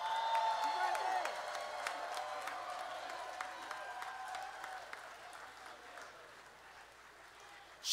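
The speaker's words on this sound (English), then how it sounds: "can we just get a round of applause for Mr." An audience at the Austin Music Awards 2022 applauds the winner of best live sound engineer. A dense burst of clapping starts loud and gradually thins and fades over several seconds, with faint crowd murmur underneath.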